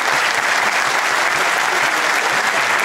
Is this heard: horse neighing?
no